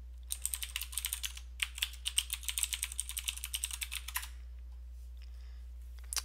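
Rapid, crisp keystrokes on a computer keyboard as a Battle.net ID is typed in, with close, steady clacks in two bursts separated by a short pause, over a low constant hum.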